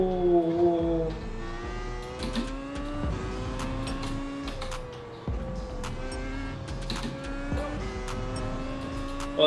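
An old Formula 1 car engine in a racing simulator game revs and shifts through gears, with rising and falling whine and occasional tire squeal, heard fairly faintly and without talk.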